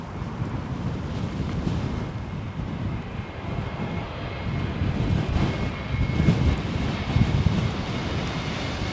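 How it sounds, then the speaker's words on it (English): A Boeing 777 lands at Heathrow in high winds, heard as a low, rumbling engine roar under heavy buffeting gusts on the microphone that swell toward the end. "777's having a tougher time to land than the other aircraft"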